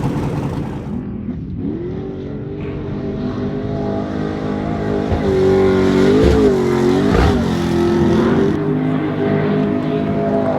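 A two-seat short course race truck engine revs and drones steadily, its pitch rising and falling as it accelerates, loud and close throughout.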